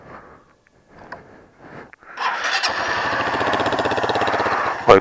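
A Honda Fan 150 motorcycle fitted with a Fortuna sport exhaust, started after a few quiet clicks and settling into a loud, close, steady idle with a rapid rhythmic exhaust pulse.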